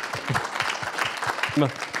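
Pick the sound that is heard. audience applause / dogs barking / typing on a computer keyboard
audience applause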